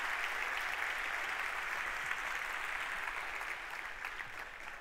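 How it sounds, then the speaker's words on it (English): Warm, sustained applause from a concert audience at Dubai Opera after a music performance, a dense even wash of clapping that fades slightly toward the end. "a very warm applause for them."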